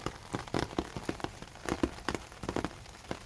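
Rain falling outdoors around a small potted lemon tree, heard as scattered close drops tapping a surface in an irregular patter, fairly quiet with no talking.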